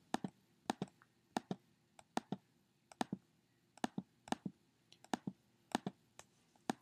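A computer mouse clicks while someone navigates a website tour. The crisp, close clicks come singly and in quick pairs at an irregular pace over a quiet background.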